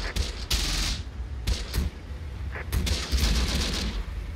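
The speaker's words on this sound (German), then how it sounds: "Die schießen hier rüber, denke ich." Gunfire in the WWII video game Close Combat: The Bloody First, with bursts of rifle and machine-gun fire cracking in irregular clusters over a steady low battlefield rumble.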